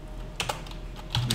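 Keys clack on a computer keyboard during Java programming, a few quick separate taps and then a short close burst near the end, heard alone with no talk.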